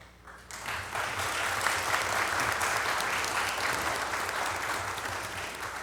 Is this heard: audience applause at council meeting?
yes